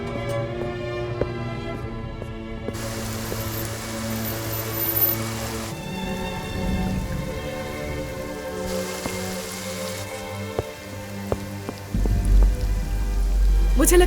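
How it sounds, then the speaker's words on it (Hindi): Heavy rain patters steadily on a surface, continuous through the whole stretch, with music-like tones and a low rumble layered underneath. "तेज बारिश हो रही है।"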